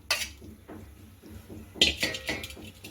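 Sago pearls go into a pot of boiling water amid a few quiet, close metallic clinks and taps of a spoon against the pot, spaced irregularly over a soft background.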